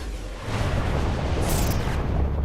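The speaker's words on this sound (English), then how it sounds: "I knew an explosion like that was going to happen." A Saints Row 4 video game explosion, a loud, sustained low rumbling boom with a hissing wash on top that rolls on for a couple of seconds with no voices.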